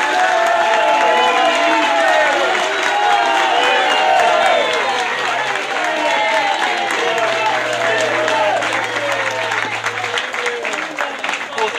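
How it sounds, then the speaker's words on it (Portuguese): Loud crowd applause with cheering and whoops at a political vigil for Lula in Curitiba, sustained steadily for about twelve seconds without a break. "pedir uma salva de palmas para todos que já tiveram aqui um dia"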